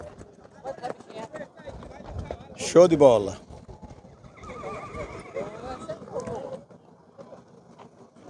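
Horses neigh and whinny at a horse fair in Altinho, Pernambuco, with one loud close whinny standing out among crowd chatter, hoof clops and someone talking throughout.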